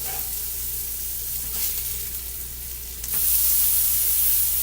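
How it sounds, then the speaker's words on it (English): A burger sizzles and fries in a hot pan beside onions, with a steady loud hiss that swells brighter after being flipped, and no voices. "We're going to go ahead and flip our burger."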